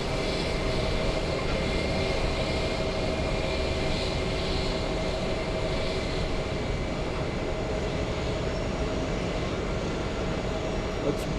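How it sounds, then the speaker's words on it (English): JetBlue CRJ regional jet on a go-around, a loud, continuous engine roar with steady tonal whine layered over broad rumble, unbroken throughout and free of talk. "Blue JetBlue going around the what's it called? The little CRJ."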